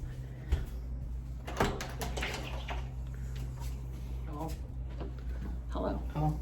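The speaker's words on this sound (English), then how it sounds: "Somebody's knocking." Knocking on a hotel room door at night, a couple of sharp raps heard close by amid room noise, with speech around them.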